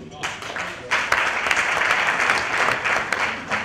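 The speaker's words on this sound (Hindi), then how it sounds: "तालियां" Audience applause at a Hindi kavi sammelan poetry recital: a dense burst of clapping that swells after a brief start and carries steadily through to the end.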